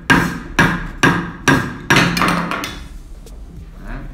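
Five sharp knocks at a steady pace, then a busier cluster of lighter metallic taps as the blade loosens, from tapping a Zetsaw Dozuki Piercing 150 Japanese pull saw to release its blade, with no voices.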